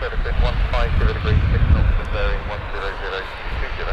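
An EasyJet airliner at Gatwick Airport rumbles with a broad, steady engine roar that swells slightly and then eases, while a voice talks over it and wind buffets the microphone.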